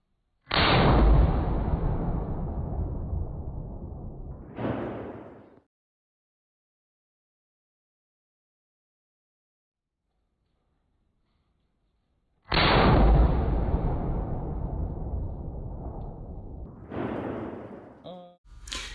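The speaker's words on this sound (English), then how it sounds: "Next, we have some clips of the SOM at the 200-yard range on a cold day, having fun, just shooting stuff" A hunting rifle fires at a 200-yard range on a cold outdoor day: two loud, close blasts, each followed by a long rolling echo and a short trailing sound, with a long silence between them.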